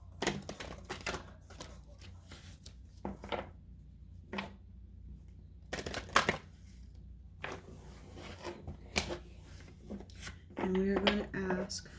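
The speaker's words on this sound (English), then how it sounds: "I'm just going to shuffle these up really good." Tarot cards being shuffled by hand, giving a series of crisp flicking and riffling bursts scattered through a quiet room, close and moderately loud, with brief gaps between handfuls.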